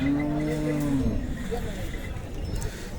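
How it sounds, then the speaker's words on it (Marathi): At a livestock market for bulls, one bovine gives a loud, close, drawn-out moo lasting about a second. Busy market murmur and rustling carry on after it. "बैलांचा आहे बैलांचा बाजार"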